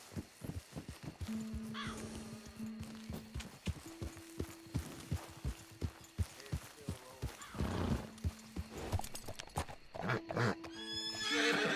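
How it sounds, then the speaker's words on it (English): A horse whinnies loudly several times amid a steady clip-clop of hooves, with faint chatter in the background, in the video game Red Dead Redemption 2. "That's a horse."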